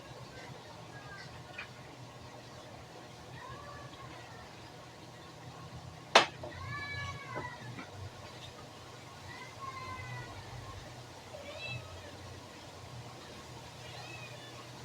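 A cat meows faintly several times at irregular intervals over low background noise, with one sharp click partway through.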